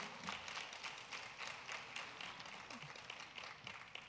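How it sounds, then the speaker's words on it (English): Audience applause for a teacher from Royal High School at an El Monte Union High School District State of the District event, steady clapping from a crowd throughout, moderately loud. "Give a round of applause to our teacher from Royal High School"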